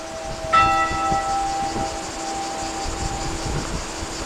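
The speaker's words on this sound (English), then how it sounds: "We're the only ones here and these bells are ringing." Church bells ring out in Sirolo, Italy, starting with one bright strike whose tones hum and slowly fade, heard against steady wind noise outdoors.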